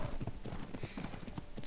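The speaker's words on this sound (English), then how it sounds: "Oh, we have an equus. Look at this. We have our first horse." Hooves of an equus horse clip-clopping in the video game Ark: Survival Evolved, a quick, close, even rhythm of soft hoofbeats with no talk over them.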